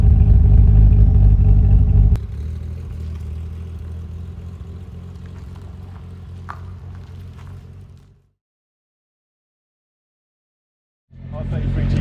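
A 700-horsepower Nissan Skyline R33 GT-R engine rumbles loudly at close range, dropping from a heavy rev to a steady idle before cutting out into silence, then roaring again at the end.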